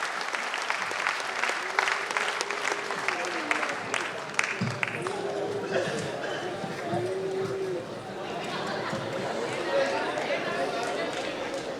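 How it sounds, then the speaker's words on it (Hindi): A crowd at a Holi festival comic poetry gathering applauds loudly and continuously as a poet is welcomed to the stage. Dense, sustained clapping fills the hall while faint chatter and a few raised voices mix in beneath it. "जोरदार तालियां तब तक बजाएं जब तक गौरव शर्मा माइक पर नहीं आ जाए"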